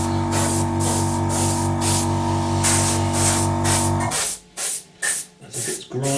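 Airbrush spraying paint onto an Airfix 1/48 Sea Vixen model kit, a steady close hiss with a humming tone for about four seconds, then several short separate bursts.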